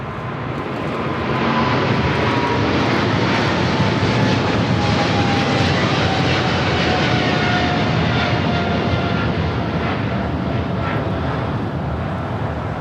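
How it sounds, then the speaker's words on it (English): China Airlines Cargo Boeing 777 freighter bound for Taipei, taking off from LAX with a loud, steady broadband jet roar that builds in the first seconds and holds, a faint whining tone sliding slowly downward through it. "That was China Airlines Cargo 5137 taking off to Taipei on a 777 freighter."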